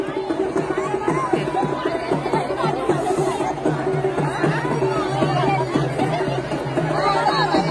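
Crowd chatter at the Malganga Devi yatra in Nighoj: a dense, steady babble of many voices talking at once, close and constant, with no single voice standing out.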